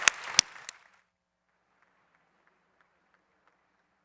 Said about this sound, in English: a round of applause for the Phocuswright people